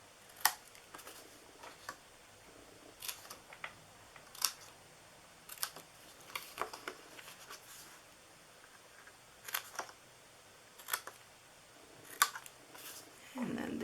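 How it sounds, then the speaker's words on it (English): Snips cutting pieces of paper for a DIY snowman shaker gift box, a scattered series of short crisp snips and clicks, close and fairly quiet. "Grab my snips here, and we are going to cut into these."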